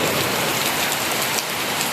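A downpour of heavy rain, loud and constant, drops pattering densely on nearby surfaces with no talking.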